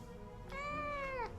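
A pet cat lets out a single short, clear meow at close range against quiet room noise, with no speech.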